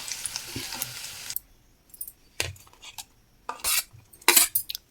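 A brief hiss of tempering spices hitting hot oil at the start, followed by scattered clinks of a spoon against a pan.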